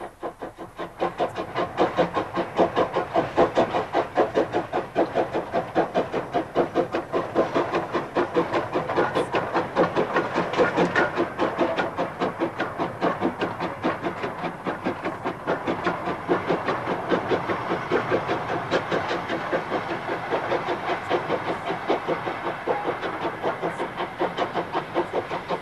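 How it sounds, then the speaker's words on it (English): An Oxfordshire Ironstone Railway locomotive fly shunting a rake of empty ironstone wagons at Wroxton, heard as a long, continuous rhythmic clatter of wheels over rail joints with a steady hiss, loud and unbroken throughout. "A spot of fly shunting in evidence here, as one of the packets returns to Wroxton with a break of empties."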